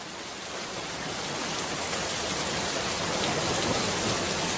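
Steady, dense rain pours down continuously in a cartoon fairy-tale scene, a broad even wash of falling water with no pauses and no voices.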